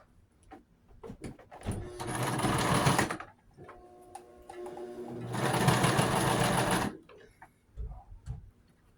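A sewing machine stitches fabric in two sustained whirring runs, each about two seconds long, separated by quieter clicks and handling noises. The machine is loud and close, and no one talks over it.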